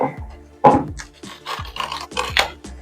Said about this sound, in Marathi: याला पूर्ण घट्ट असा रॅप करून घ्यायचा